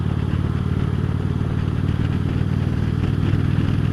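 Indian Chieftain motorcycle accelerating under hard throttle, a steady loud throbbing engine note with clattery rumble, heard close and continuous without speech.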